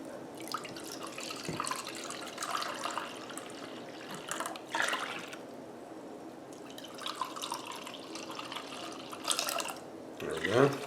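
Pineapple juice, 3.5 cups of it, is poured into a steak marinade in a home kitchen, giving an irregular splashing and gurgling liquid sound that swells and fades in several bursts.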